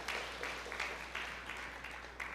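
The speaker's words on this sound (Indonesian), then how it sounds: "Berikan tepuk tangan yang meriah." Congregation applause during a church sermon, a continuous crowd clapping texture with slight surges, somewhat distant and muffled, with no speech over it.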